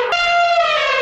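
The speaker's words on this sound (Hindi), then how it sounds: "हाथी तालाब पर जोर जोर से चिंघाड़ने लगता है।" Elephant trumpeting at a pond, one brief loud, bright, sustained blare lasting about a second, close and alone.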